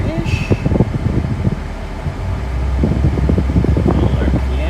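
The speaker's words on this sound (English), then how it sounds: "Idling, windows down, hood closed, been sitting here for a while." A 1969 Chrysler 300 idles with its hood closed and windows down while the upgraded air conditioning runs, giving a steady fan-like whoosh and low engine hum beneath a person talking nearby.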